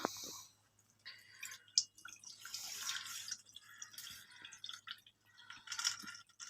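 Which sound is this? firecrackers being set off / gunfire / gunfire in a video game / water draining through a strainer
water draining through a strainer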